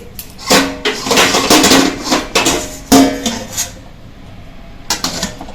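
A metal lid is set over a hot kadhai on a stove with a few sharp clanks and scrapes, followed by some lighter metallic taps and rattles, close up, with no talk.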